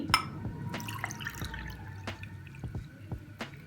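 Water trickling and dripping into a pan while making milky dhaba-style tea, with soft splashes and a few sharp drips over a quiet kitchen background, no talking.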